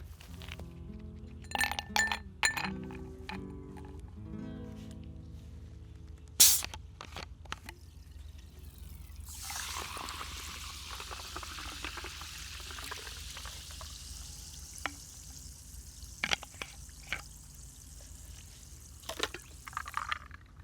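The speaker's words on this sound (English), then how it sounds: "now I will drink the fizzy water." Chilled Sodastream fizzy water in a glass: quiet clinks of glass first, then a sustained soft carbonated fizzing hiss with occasional faint taps, heard close and alone.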